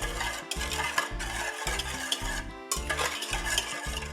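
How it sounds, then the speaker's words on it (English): Ingredients for Finnish pulla sweet bread whisked in a bowl, a fast rhythmic series of clattering, scraping strokes at close range with brief pauses between bursts. "And now we're going to whisk all this together."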